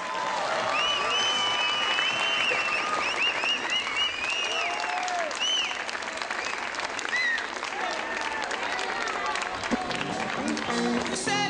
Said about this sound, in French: Vous pouvez applaudir, ça fait du bien.